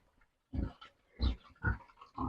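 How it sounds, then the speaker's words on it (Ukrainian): Small pigs grunt and snuffle in short, close bursts, four or five rough snorts spaced out while they feed. "Дивіться, як вони їдять."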